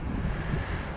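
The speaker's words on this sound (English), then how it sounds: "I hope the wind noise isn't too bad, but it's windy" Wind buffeting a microphone outdoors on a gusty day, a steady low rumbling roar that fills the whole second with no voices over it.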